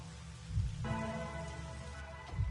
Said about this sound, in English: It's a gentle rain, protecting us.